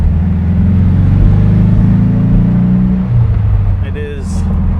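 A 1964 Porsche 356C Cabriolet is on a road test, its engine giving a steady, loud low rumble throughout, with a brief higher mechanical whine near the end.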